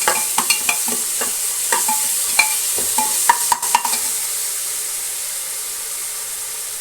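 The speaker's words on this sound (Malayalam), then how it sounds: "നമ്മളൊന്ന് ഇളക്കി കൊടുക്കണം." Crushed ginger and garlic sizzle in hot oil as a spoon stirs and scrapes the pan, sharp clicks clustered in the first four seconds before a steady hiss continues alone, close and clear.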